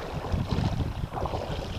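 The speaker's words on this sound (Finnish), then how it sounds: "ja nyt kyllä tuuli käy vähän toisesta suunnasta" Wind on a Gotland shoreline buffets the microphone in a steady, close, low rumble that stays loud the whole time, with no voices.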